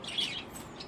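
Pet lovebirds give quick, thin chirps close by, a couple of faint high tweets over a soft background hiss in under a second.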